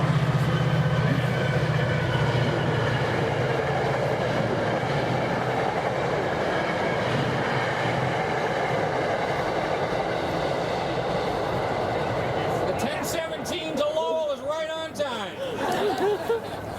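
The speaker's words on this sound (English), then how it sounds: "I'm just glad that that's commuter train and not a freight train." A commuter train passes near a park during an outdoor dedication ceremony in Winchester, a loud, steady rumble filling most of the stretch before sharper clattering takes over toward the end, with faint background chatter.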